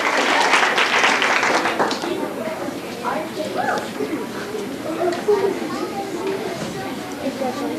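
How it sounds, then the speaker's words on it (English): A school audience of parents and children applauds fifth grade trimester award winners, a strong burst of clapping that fades into scattered claps and chatter from the crowd. "Another big round of applause, everyone"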